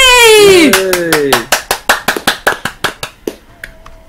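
Loud hand claps at close range, about fourteen sharp, evenly spaced claps in a steady run, starting just after a high vocal outburst and tapering off near the end.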